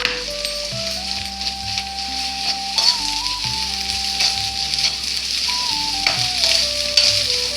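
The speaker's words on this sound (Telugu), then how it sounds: "ఇంకా ఉల్లిపాయలు వేగుతున్నాయి." Onions and ginger paste fry in a pan with a loud, continuous close sizzle and occasional stirring. Soft background music plays underneath throughout.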